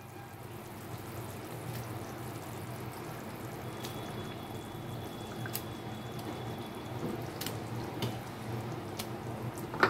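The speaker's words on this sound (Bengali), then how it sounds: "বন্ধুরা গ্রেভিটা আমার ফুটে উঠেছে" Fish curry gravy boils in a pan with steady soft bubbling and scattered pops and drips, the simmer continuing evenly with no voices.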